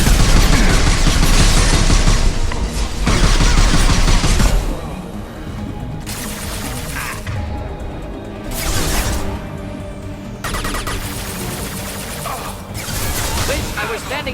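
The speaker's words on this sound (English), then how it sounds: "Firing a high-impact shot!" A high-impact gunshot in Mass Effect Legendary Edition, with loud heavy bursts of fire and crashing booms among quieter stretches of game ambience.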